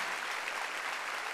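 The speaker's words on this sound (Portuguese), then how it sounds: "Você pode aplaudi-lo mesmo." A church congregation claps together in a steady, dense burst of applause, loud and continuous for a moment.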